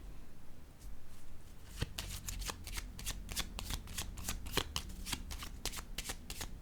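A deck of tarot cards being shuffled for a reading, a rapid run of crisp papery riffles and flicks that starts after a second and keeps a steady, close rhythm with no talk.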